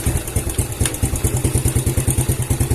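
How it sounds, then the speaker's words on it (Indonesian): A Yamaha Vega ZR motorcycle engine runs just after starting, its steady rapid low thumping pulses repeating evenly up close, with no talk over it. "sekarang kita hidupkan untuk motornya"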